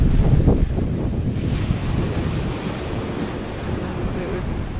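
Sea waves washing up a shore at high tide, a continuous rushing surf mixed with buffeting wind noise on the microphone, loud and close, with a brief faint bird call near the end.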